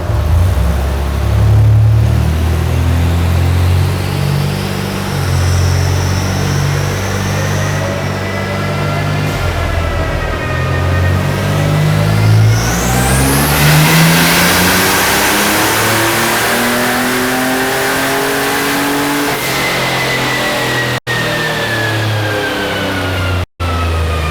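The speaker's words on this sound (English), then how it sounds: "now it's time to get this thing up on the RT Tuning all-wheel drive dyno for some power pulls" A turbocharged S10 truck engine revs hard on an all-wheel-drive dyno, climbing steadily in pitch through a long loud pull, with a turbo whine, then easing off and dropping away near the end.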